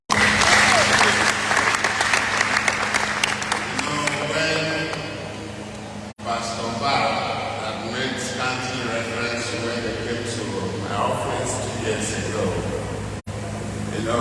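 A church congregation applauds loudly at a testimony and thanksgiving service, the clapping strongest at first and then continuing more thinly under a voice speaking over it.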